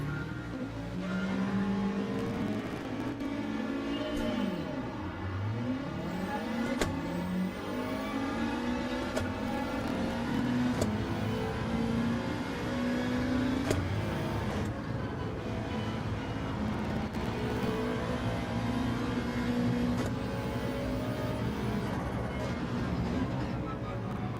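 Subaru WRX GR4 four-wheel-drive rally car in a rallycross racing video game, its engine droning and revving continuously with pitch sweeps as it accelerates and shifts, with some game track noise throughout.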